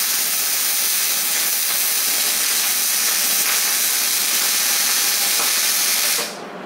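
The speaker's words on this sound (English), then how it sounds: "he's now welding the bottom side for extra strength" Steel tabs on a light bar for a Polaris RZR Turbo S being welded on the bottom side, heard as a close, steady, loud crackling hiss that runs unbroken for about six seconds before cutting off.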